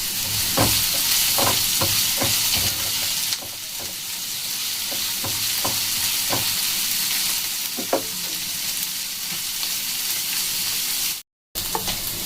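Chopped onion with a pinch of salt sizzles loudly and steadily in a pan, with irregular spatula scrapes and clicks from stirring and a brief cut near the end; no voices.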